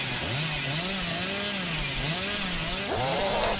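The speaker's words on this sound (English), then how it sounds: "I kinda just sent that chainsaw" Chainsaw engine in a video game revving with a wavering, undulating whine, steady and close throughout, rising sharply again near the end.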